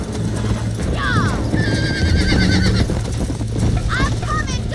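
A horse in the video game Red Dead Redemption on Xbox Series S gives several loud whinnies over a steady rhythm of galloping hooves, with other game sounds and voices underneath.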